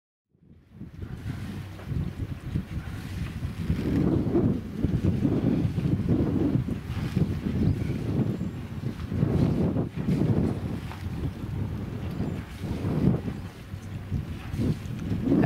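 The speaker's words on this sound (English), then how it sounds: "the wind got stronger and stronger, and you can see it was pushing the boat quite hard away from the dock" Strong gusty wind at a marina finger pontoon, buffeting the microphone in a continuous loud roar over lapping water around a moored sailboat, with no talk.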